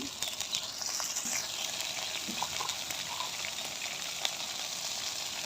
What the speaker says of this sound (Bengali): এখানে আমি প্রায় চার চামচের মতো আদা রসুন বাটা দিচ্ছি